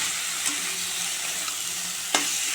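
Taro stolons cook in a pan with a constant soft sizzle and a couple of brief scraping stirs, one near the start and a louder one toward the end.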